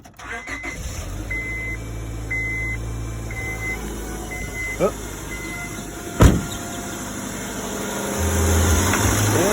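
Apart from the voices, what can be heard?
2001 Honda Civic coupe engine starting and idling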